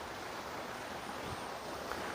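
A hill stream spilling across cracked, broken ground, heard as a constant broad rush of flowing water with no talk and no clear breaks.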